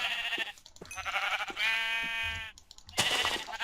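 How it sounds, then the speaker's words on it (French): Several sheep in the Minecraft video game bleat in quick succession, a few wavering baa calls close by over a quiet backdrop. "Ah, des moutons, il y en a 3 en plus."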